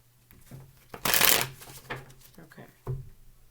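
A deck of tarot cards shuffled by hand in a few quick riffling bursts, with the loudest flurry early and shorter ones after, over a soft low hum with a voice faintly present.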